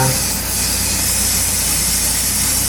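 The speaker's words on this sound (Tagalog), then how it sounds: "spray natin muna ng CRC" Aerosol CRC cleaner sprayed on the gasoline engine of a Hyundai Accent with black smoke and low power, giving a steady, loud continuous hiss that runs unbroken for the whole stretch.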